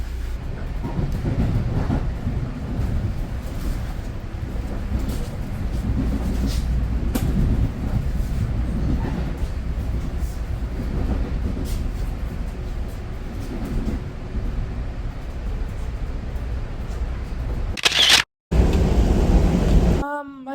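A steady, loud rumble of a train rolling along the rails fills the whole clip, with faint clatters and a brief sharp hiss near the end.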